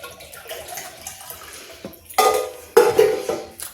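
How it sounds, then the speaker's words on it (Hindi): RO water poured into a copper vessel, two loud splashing pours near the end after quieter clinks and handling, close and without talk. "अब ये पानी जो है हम इसमें डालेंगे"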